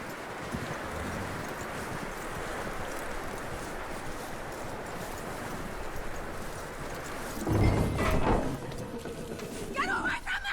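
Horse hooves clip-clopping in Red Dead Redemption 2, a steady rhythmic trot heard close under ambient noise, followed near the end by a louder burst and voices talking.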